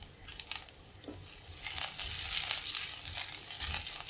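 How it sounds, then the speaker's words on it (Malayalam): Chopped green chilies and curry leaves sizzle in hot oil in a pan, a steady close crackle with brief stirring scrapes and rises in intensity, with no talking. "എല്ലാം കൂടെ നന്നായിട്ടൊന്ന് മൂക്കട്ടെ"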